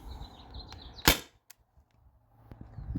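A T4E TR68 home defense launcher fires riot balls, one sharp loud shot standing out, then a smaller pop, with faint handling noise around them.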